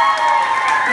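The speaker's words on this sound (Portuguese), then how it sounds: "Um aplauso pra esse casal," Applause and cheering from a party crowd at a drag show, a dense, steady wash of clapping and voices for a couple being celebrated, loud and continuous throughout.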